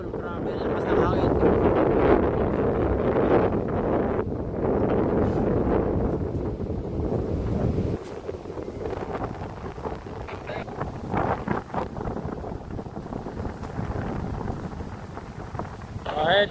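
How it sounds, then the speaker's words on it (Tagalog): Strong wind blasts into the microphone outdoors, a loud, dense low rumble that dominates the first half and then eases into gustier buffeting, with people talking faintly underneath. "Lakas ng hangin."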